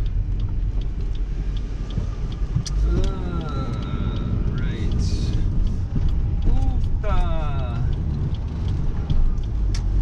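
A car drives along town roads in Del Rio, Texas, with a continuous close engine and tyre rumble, occasional mechanical creaks and a passing whine.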